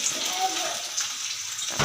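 Hot water poured from a container into a cooking pot of curry on a home kitchen stove, a steady close splashing stream lasting under two seconds that stops abruptly near the end.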